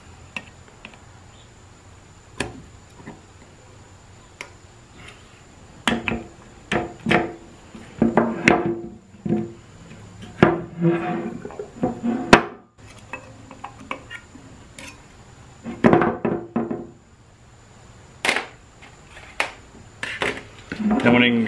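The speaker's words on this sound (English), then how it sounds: "you can take a screwdriver and bend these two tabs down" A screwdriver bends metal tabs on a 47RE transmission valve body, producing scattered sharp metallic clicks and scrapes at close range, interspersed with quiet pauses.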